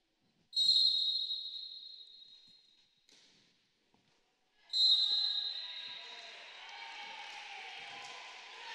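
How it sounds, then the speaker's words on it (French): Referee's whistle at a women's volleyball match between Croatia and Hungary, two sharp shrill blasts, the first long and loud, the second followed by crowd noise and the murmur of commentary. "Un doublé sifflé sur le premier contact par Philippe Dauchel"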